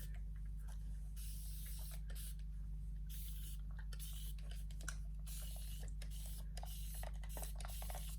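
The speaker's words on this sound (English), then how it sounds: "Let me spray my hair." Hair spray hisses from an aerosol can in a series of short bursts, close and fairly quiet over a steady low electrical hum.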